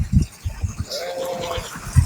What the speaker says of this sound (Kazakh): Қойлар өрістен суға келіп жатыр